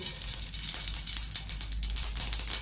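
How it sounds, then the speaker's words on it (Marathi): Mustard seeds crackle and sizzle in hot oil in a heated pan while poha is prepared, giving a steady, close frying hiss with dense little pops throughout. "तेल आपलं तापलेलं आहे याच्यात ही मोहरी"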